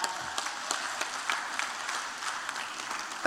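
An audience at a conference in Accra applauds in a steady, even wash of many hands clapping. It carries at a moderate level across the whole stretch with no speech over it.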